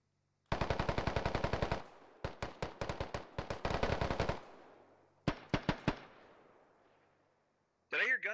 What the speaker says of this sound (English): Did I hear gunshots or was I just hearing shit? Definitely gunshots.